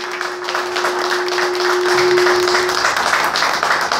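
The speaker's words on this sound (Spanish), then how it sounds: "le damos ahora sí que un aplauso a aquellas mujeres" A gathering applauds women nurses at a talk, producing a steady, moderately loud wash of clapping that fills the whole stretch, with a faint sustained tone underneath.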